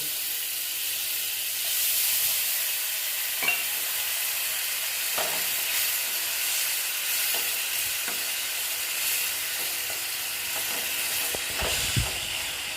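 Water from a bowl hits a hot pan of mustard-poppy paste for a vegetarian okra dish, setting off a loud, steamy hiss and sizzle with scattered pops and clicks over several seconds.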